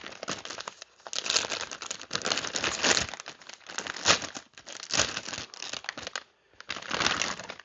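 A plastic bag crinkles loudly around a new HJC HJ37 helmet face shield with Pinlock as it is handled, close-up bursts of sharp rustling separated by short pauses.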